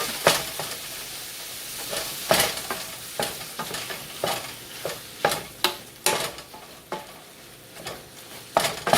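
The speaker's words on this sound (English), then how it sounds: "ground beef in there to cook. Okay, I got this started heating up. Browning up." Ground beef browning in a pan over medium heat, with a steady sizzle broken by repeated sharp scraping strokes of a utensil stirring the meat, close and moderately loud, no voices.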